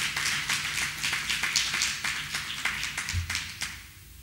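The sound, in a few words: church congregation clapping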